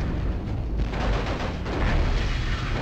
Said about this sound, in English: Lots of shootings.